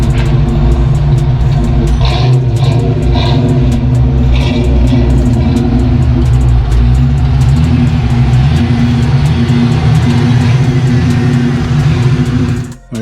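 Car engine running while being driven after throttle body gasket replacement, a loud steady mid-range hum with a few rising revs under acceleration, no talk, cutting off at the end.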